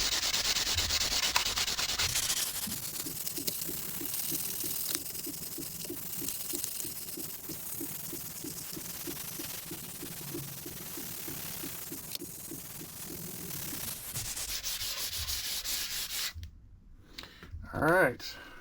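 A sanding block rubs back and forth over a Les Paul Custom guitar body from a DIY kit, a steady run of rhythmic scraping strokes close up, ending in a brief clatter.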